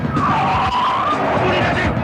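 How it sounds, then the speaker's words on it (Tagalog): A car in a classic Filipino action film starts and drives off on its own with no driver, heard as a loud, close roar of engine and skidding tyre squeal under a continuous wash of noise. "Umandar ng walang nagmamaneho!"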